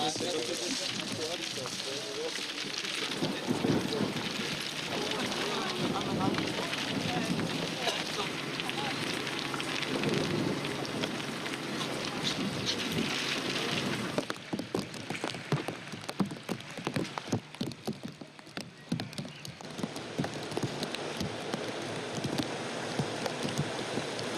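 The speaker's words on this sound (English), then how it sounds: "this rain's going to trash the costumes" Heavy rain pours steadily on an outdoor film set during a storm, a dense broadband wash of drops hitting surfaces with gusty wind noise, the downpour loud throughout with brief crackling spatters near the end.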